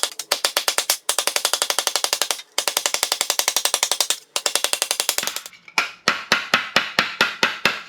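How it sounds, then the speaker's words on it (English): Rapid, even hammer blows ring on a metal differential cover in long bursts separated by short pauses, then slow to a handful of separate strikes at the end. "that's how I'm going to start hammering it."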